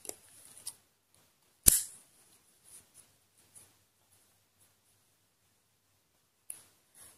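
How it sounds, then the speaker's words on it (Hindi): Scissors give a single sharp snip through woollen yarn while socks are crocheted, set in near silence with a few faint clicks and handling noises around it. "यहां पर हम धागा काट देंगे"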